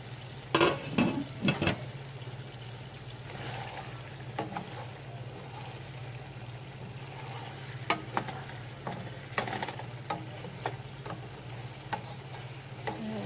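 Meatballs frying in a pan give a steady low sizzle throughout, with a cluster of louder clatters and pops early on and scattered clicks later, heard fairly close without any talk.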